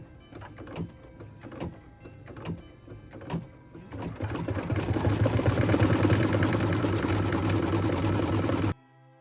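A sewing machine stitches felt applique onto a Christmas tree skirt, first in short, separate bursts of needle strokes, then running steadily for several seconds before stopping abruptly.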